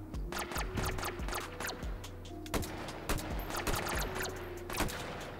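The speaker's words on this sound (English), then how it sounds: "Someone firing from over there." Gunfire in the VR shooter H3VR during a snowy Christmas shoot-out, sharp, irregular shots and quick bursts crackling repeatedly, some close and punchy, others lighter and more distant, with no talk over them.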